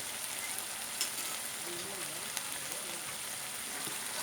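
Bamboo rat meat stir-fries in a pan with curry powder after the liquid has dried off, giving a steady close sizzle with faint stirring scrapes and a soft voice in the background.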